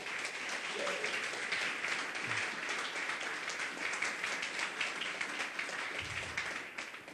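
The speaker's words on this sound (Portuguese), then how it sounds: "Se você crê nisso, dê um aplauso ao Senhor" A church congregation applauds the Lord: a continuous crowd of many hands clapping at moderate volume, somewhat distant, steady throughout, with faint voices and whoops mixed in.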